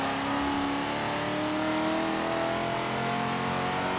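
A Corvette Z06 or Viper ACR engine revs steadily and loudly in Forza Horizon 3, a continuous high whine with rising tone that holds throughout without pause.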